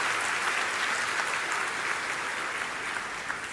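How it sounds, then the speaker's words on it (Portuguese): A church congregation gives a round of applause, a steady even wash of clapping heard at a distance, with no voices over it. "pode dar uma salva de palmas"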